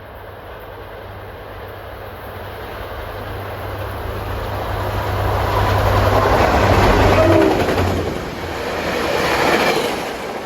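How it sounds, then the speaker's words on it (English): Passenger train headed by F40PH-2 locomotive 4119, running Hoboken to Lake Hopatcong, approaching Mountain Station on an autumn evening: a loud, steady rail rumble that swells, peaks, dips briefly, then rises again as it draws near. "This train approaching at 5:54 should be 8:07 from Hoboken to Lake Hopatcong"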